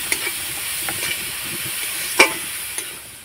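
Cauliflower seasoned with salt and turmeric is stirred and fried in a pan, giving a steady close hiss of sizzling oil. Soft scrapes of stirring run through it, with one sharper knock near the end.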